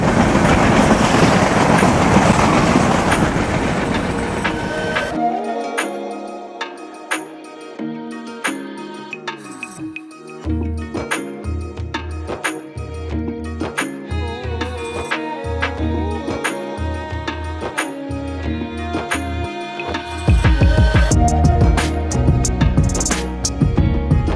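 Drutojan Express passenger train in Bangladesh running near Bangabandhu Bridge West station, a steady rolling rumble with rhythmic clickety-clack of wheels over rail joints, loud and close, swelling near the end.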